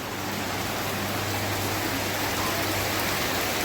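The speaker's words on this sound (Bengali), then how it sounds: "এই দেখো বাইরে কত পরিমাণ বৃষ্টি হচ্ছে" Heavy rain falls outside in a dense, even hiss of drops that stays steady and fairly loud throughout, with no one talking over it.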